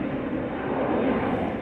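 KLM Embraer 175 jet departing Schiphol Airport in Amsterdam, a steady, moderately loud engine roar heard briefly on its own.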